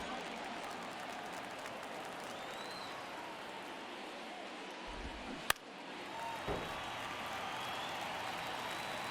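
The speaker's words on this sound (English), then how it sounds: "Crowd locked in right now." A stadium crowd in the MLB The Show 23 baseball video game gives a constant broad roar and murmur, with one sharp crack midway and a small swell after it.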